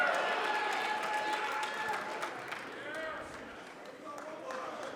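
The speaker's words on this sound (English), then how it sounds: "Only a smattering of applause" Scattered, modest applause from the crowd at a 2019 Mosconi Cup pool match after a great shot, with murmuring voices underneath, fading somewhat toward the end.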